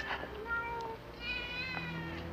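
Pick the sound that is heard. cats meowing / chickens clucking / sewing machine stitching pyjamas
cats meowing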